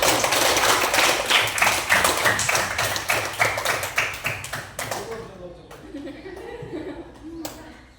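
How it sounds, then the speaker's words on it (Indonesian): A class of tenth-grade students claps in unison in a classroom, loud rhythmic rounds of applause lasting about five seconds, then trailing off into a few scattered claps and light chatter. "Tepuk tangan buat kalian"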